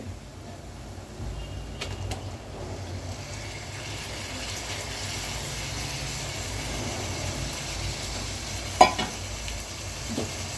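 Curd stirred into a chicken biryani mixture in a pot, a soft continuous scraping and squelching with faint sizzling underneath and one sharp clink of the spoon near the end.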